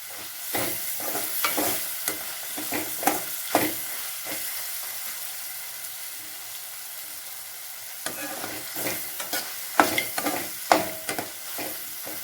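Onion, tomato and whole spices sauté in oil for a meal maker gravy, a constant low sizzle broken by bursts of spoon stirring and scraping against the pan, with no talking.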